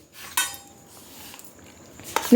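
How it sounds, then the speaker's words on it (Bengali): A metal spoon clinks and scrapes inside a pot while milk is stirred into hot water for homemade payesh, a sharp knock at the start and clatter near the end with quiet stirring between. "গরম গরম জলটা দিয়ে এবার দুধটা মা গুলে নিচ্ছে আহা এই চামচ দিয়ে গুলাবে নাকি মা"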